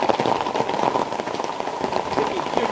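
Steady rain falls on outdoor surfaces, a dense, continuous patter of drops that stays even and fairly loud across the whole stretch with no voices over it.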